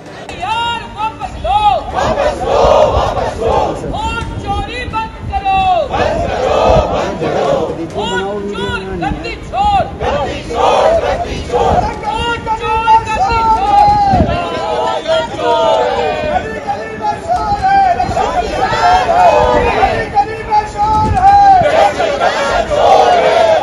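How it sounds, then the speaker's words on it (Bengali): Opposition MPs chant slogans in unison during a parliament protest, loud rhythmic shouted voices repeating over a noisy crowd with babble throughout. "ব্যানারে ভোট চোর লিখে স্লোগান বিরোধীদের"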